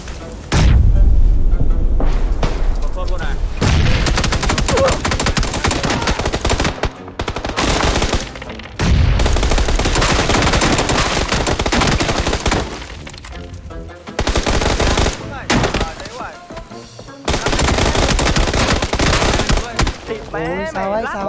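Rapid bursts of gunfire from a shooting video game, loud and dense, repeating in long volleys with short gaps, while players talk over the action.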